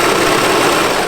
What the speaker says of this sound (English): I'm going to sew this together.